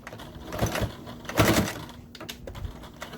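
A sewing machine back stitching a fabric skull cap, short bursts of fast mechanical whirring and clattering, close and moderately quiet, with brief pauses between runs.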